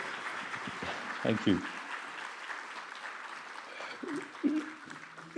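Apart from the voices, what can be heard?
audience applause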